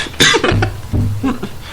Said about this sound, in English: Also, no coughing on the air.